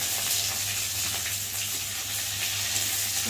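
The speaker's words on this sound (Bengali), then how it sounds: "ভালো করে একটু ভেজে নেব পেঁয়াজটা, রসুনটা।" Onion, garlic and dried red chilli fry in hot oil in a kadai, giving a steady, close, even sizzle with soft crackle that lasts the whole stretch, with no talking over it.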